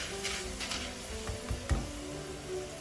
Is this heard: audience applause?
no